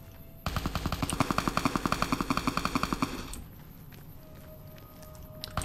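Rapid sustained automatic gunfire from a storm drummer enemy in Fallout New Vegas, a loud regular burst of about twenty-five evenly spaced shots lasting nearly three seconds, then cutting off to quiet ambience with faint distant pops.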